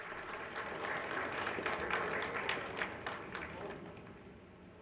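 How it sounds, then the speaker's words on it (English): An audience at an MBA and BBA freshers induction program applauds with dense, continuous clapping that swells and then gradually tapers off, with no talking. "A big round of applause for this wonderful"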